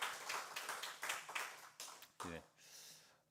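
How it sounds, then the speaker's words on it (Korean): A small church congregation claps a welcome for a returning member, a short run of scattered, uneven claps from a modest group. It ends in a brief spoken sound before tailing off. "박수로 환영하겠습니다."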